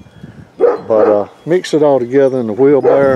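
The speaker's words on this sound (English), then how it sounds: "So you have to excuse my dogs, they're going to bark a little bit." Dogs bark in a backyard garden, short yaps mixed in beneath someone talking close to the microphone.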